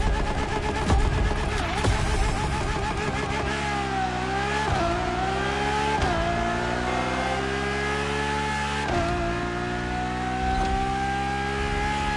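A Ferrari Enzo supercar in the racing game The Crew Motorfest, its engine revving loudly and continuously, climbing through gears with quick shifts and sustained high-pitched acceleration.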